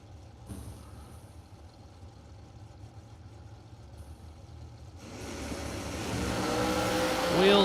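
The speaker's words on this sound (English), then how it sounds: "Got to run the dragster." A dragster launches down the drag strip at a SuperBucks Showdown bracket race, a distant engine building into a loud rising roar in the final seconds after a quieter stretch of crowd and ambient noise.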